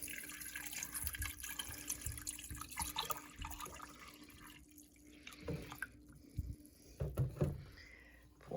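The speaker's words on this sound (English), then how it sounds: "take your water, pour over your tea bags" Water poured from a container over tea bags into a pitcher, a soft splashing and trickling pour with dripping, moderately close with a steady liquid hiss.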